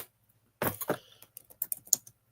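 Keystrokes on a computer keyboard in a quiet room, a short dense burst of clicks followed by scattered lighter taps, fairly close and moderately loud with no voices.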